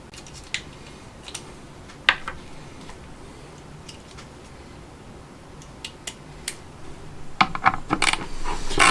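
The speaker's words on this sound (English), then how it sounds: "now we've got the screws on the outside of the casing. We're going to go ahead and take those all apart." Screws come out of the casing of a Ford 6.0 diesel FICM, heard as sparse, sharp metallic clicks and clinks against a quiet background, growing busier and denser toward the end.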